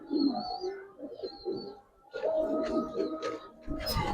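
A giribaz pigeon perched on a hand gives soft, low throaty coos, a few short calls close by, followed by a busier stretch with faint rustling and a brief voice underneath.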